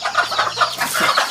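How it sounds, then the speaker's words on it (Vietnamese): Chickens on a farm in a green forest setting, with pigs kept nearby, cluck in a steady, busy chorus of overlapping short calls, fairly close and continuous throughout with no talking. "Gà cũng còn nhiều."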